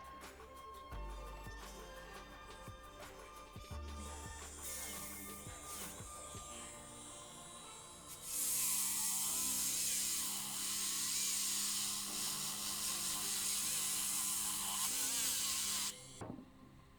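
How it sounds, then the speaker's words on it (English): A porcelain surface is polished with high-grade diamond polishing paste by a small power tool, first as a low whir with scattered scrapes and clicks, then as a loud, steady high hiss for about eight seconds before it abruptly stops. "After the control of the surface, we are going to polish it with diamond polishing paste."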